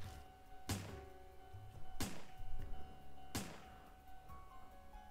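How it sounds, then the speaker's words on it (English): Three faint, sharp reports from a gun fired into the sky in the video game Spirit Hunter: NG, evenly spaced over a few seconds, each a thin muted crack with a short tail over a low hum. "Those have to be the weakest gunshot sounds I've ever heard."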